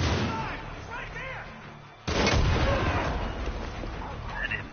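Gunfire in the video game Far Cry 5: a sharp, loud shot breaks in midway, following earlier voices, then rumbling echoes and game noise trail off while people talk over it.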